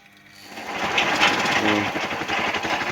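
Vibrating table driven by a washing machine motor, switched on and quickly spinning up into a loud, steady, rattling buzz that holds close and continuous.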